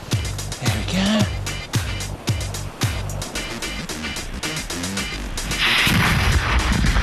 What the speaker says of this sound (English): These cannons fire smaller balls, which go faster, so they should be more accurate